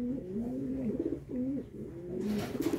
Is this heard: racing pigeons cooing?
yes